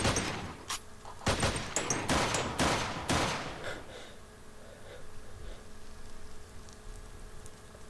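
Shotgun fire in modded Minecraft survival, a rapid cluster of sharp blasts up front that thins into quieter game ambience, with a few breathy sounds.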